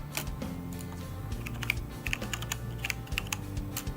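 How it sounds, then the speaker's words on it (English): Quick irregular clicking of a computer keyboard being typed on, close and distinct, in bursts of keystrokes with short pauses, no voices. "The keyboard sound."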